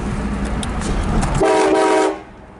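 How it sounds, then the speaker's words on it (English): A train horn fitted to a vehicle blasts once as a Halloween prank, a loud sustained chord lasting about half a second before cutting off, following a stretch of rumbling engine and road noise. "I'm gonna prank my dad with the train horn."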